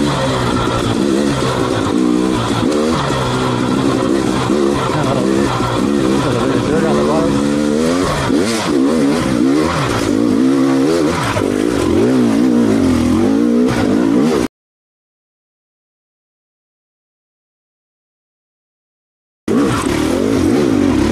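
An off-road vehicle on Moab's sandy, slippery Hell's Revenge trail, its engine revving hard in second gear with a loud wavering roar that cuts out briefly before resuming; people talk over it.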